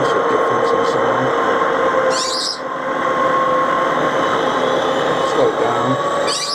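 Model railway HST locomotive engine sound from a DCC sound decoder, a steady droning diesel hum with brief higher squeals, played close and continuous.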